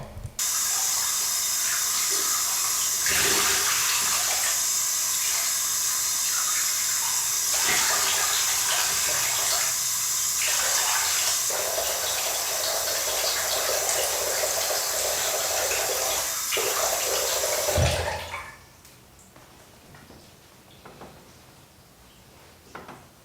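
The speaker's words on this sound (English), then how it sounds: "I'm just gonna go ahead and rinse it off." Tap water runs loudly and steadily into a bathroom sink as a face is rinsed, with splashing, then it cuts off, leaving quiet room sound.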